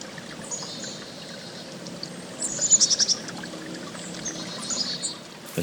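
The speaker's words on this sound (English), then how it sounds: "The birds chirping nearby." Birds chirp in a forest near Big Bear Lake, a quick run of high, bright tweets midway and a few more later, faint against a soft trickling, rustling background.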